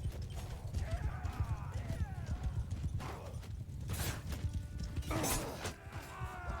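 Hooves of horses and a camel pound in a Bannerlord battle between Carthaginian forces, a dense clip-clop rumble with a horse whinnying, clanks and crashing impacts over the galloping.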